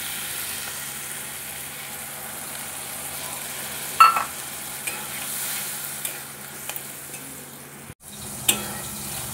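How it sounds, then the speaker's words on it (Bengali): Mustard paste frying in a pan with turmeric, green chilli and rohu fish, a soft steady sizzle with occasional spatula clinks and scrapes, close and unaccompanied by speech. "দিয়ে সরষে বাটা দিয়ে দেবো।"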